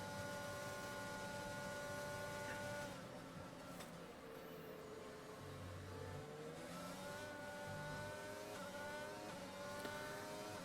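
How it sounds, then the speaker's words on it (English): An onboard McLaren Formula 1 car in an F1 racing video game at the Brazil Grand Prix, with a steady, high-pitched engine drone that rises and falls with gear changes and revs, continuous and close. "we'll go on board with Ghosts in the McLaren. The rear wing opens to hunt down BRL Shadow"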